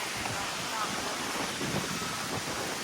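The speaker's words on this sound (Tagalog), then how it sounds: "Napakalakas ng hangin." Strong typhoon wind roars steadily through trees, a dense broadband rush with gusting swells and heavy wind buffeting on the microphone throughout.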